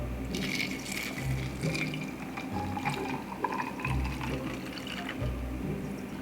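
A margarita pours into a glass, a close, continuous liquid trickle with gentle splashes and a few soft knocks, no one speaking.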